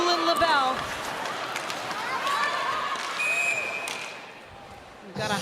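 A crowd at a professional women's hockey game in Toronto rises with a swelling roar and cheers during a scoring chance, loud and close under an excited commentator's voice, then fades toward a quieter murmur.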